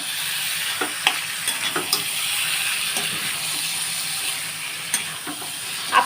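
Boiled elephant foot yam stalks are stir-fried in a pan, giving a steady broadband sizzle broken by occasional scraping stirs and clinks, with no talking.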